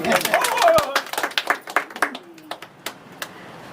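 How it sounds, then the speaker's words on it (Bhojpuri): Hands clapping in celebration among family members, a burst of quick claps fading into scattered, uneven claps, with voices talking over the start. "ताली मारा बाबा के नाम पे"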